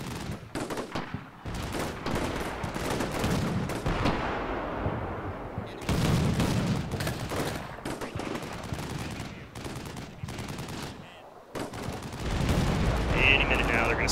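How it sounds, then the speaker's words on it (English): Weapons fire in a military video game as RPG-7 rockets are launched at a Bradley fighting vehicle with an active protection system: loud, irregular blasts and crackling gunfire bursts separated by brief quieter gaps. "They're going to start shooting some RPG-7s at this guy."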